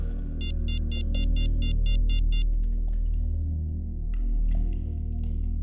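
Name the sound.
phone ringtone while calling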